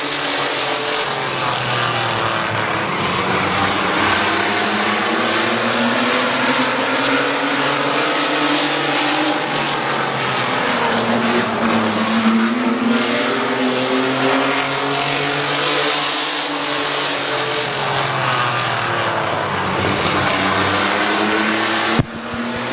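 Stock cars race around Midvale Speedway, a loud continuous roar of several engines rising and falling as they sweep past the microphone through the turns.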